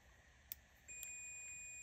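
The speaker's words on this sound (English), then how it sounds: "hear that beep?" Multimeter continuity-test beep as the probe leads touch: a faint click, then a steady high electronic tone that starts and holds to the end, quiet and close, with no talking.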